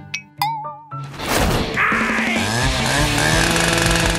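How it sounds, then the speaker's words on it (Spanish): An animated sound effect of a chainsaw: a few bright dings and knocks first, then the saw roars to life and runs loud and continuous, buzzing steadily at close range for several seconds. "Voy a usar mi motosierra."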